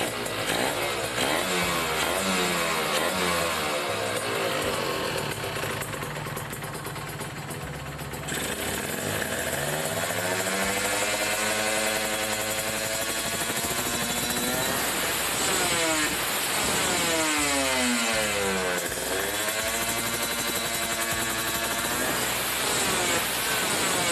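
A Kawasaki Ninja RR two-stroke motorcycle engine, its carburetor air screw just set to about two turns, revs up and down repeatedly in close, loud, rising and falling sweeps over a steady idle.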